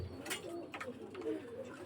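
Soft, low cooing from Pakistani pigeons repeating in a steady rhythm, with faint rustling and background hiss.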